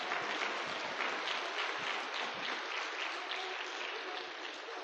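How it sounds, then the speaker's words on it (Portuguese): A church congregation applauds during a sermon, a dense, steady roar of many hands clapping at once, fairly distant and sustained for several seconds without speech. "Então aplaude e glorifica o Senhor"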